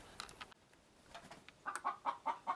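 Chickens on a goat-raising farm cluck close by, first in a few scattered calls and then in a quick run of loud, rhythmic clucks.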